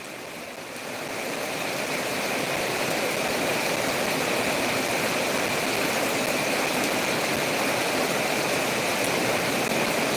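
Torrential rain pouring down outdoors, a dense, loud, constant roar that swells in over the first second and then holds steady, with no voices.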